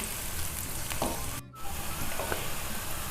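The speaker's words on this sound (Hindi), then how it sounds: "ये प्याज ऑयल में पकेगा तो ऑयल की सारी स्मेल ख़त्म हो जाएगी।" Onions fry in oil, a faint steady hiss and crackle that drops out briefly midway before resuming, with no one talking.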